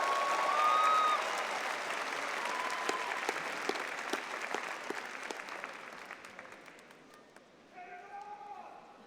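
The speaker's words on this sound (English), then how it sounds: "let's give them all a round of applause as well" Broad applause from a large audience at a graduate university commencement, loud at first and then gradually thinning and fading, with scattered individual claps and a few voices near the end.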